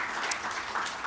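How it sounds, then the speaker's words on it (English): Short, fairly faint burst of group applause, an even patter of many hands clapping with no voices over it. "Round of applause, pretty cool."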